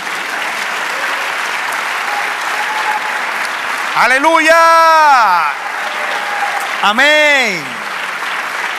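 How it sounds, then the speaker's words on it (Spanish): A church congregation applauds in a continuous steady wash of clapping while a man loudly calls out exclamations twice over it. "Denle un aplauso al Señor."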